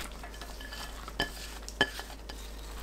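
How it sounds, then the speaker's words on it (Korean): Shredded kohlrabi and carrot are tossed with a seasoning of garlic, anchovy fish sauce, lemon juice and honey, giving quiet mixing sounds with a few sharp clinks against the bowl. "땅콩 넣고 버무립니다."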